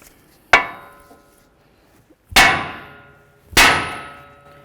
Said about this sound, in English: we're going to take our hammer and we're going to bonk right here on the knuckle